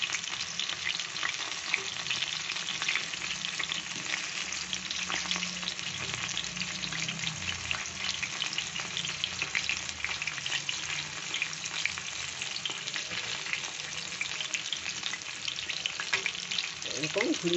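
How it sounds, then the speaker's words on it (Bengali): Thin potato slices fry in hot oil, giving off a steady, loud, crackling sizzle that continues without a break, with occasional stirring. "এটা একটু পাতলা হয়েছে বলে তাড়াতাড়ি ভাজা হচ্ছে।"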